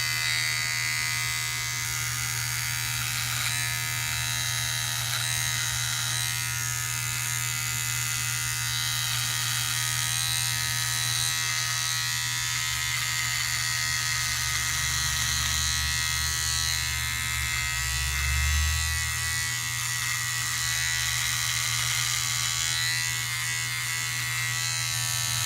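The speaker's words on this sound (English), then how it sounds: "Like OneBlade, it says to shave against the grain." A Philips OneBlade electric razor buzzes continuously and close up for the whole stretch, shaving against the grain with a steady hum whose tone shifts slightly as it moves over the skin, no voices.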